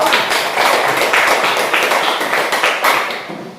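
Applause from the audience for group 2 during a PPG teacher-training session: dense, steady clapping from many hands all the way through, tapering slightly at the end.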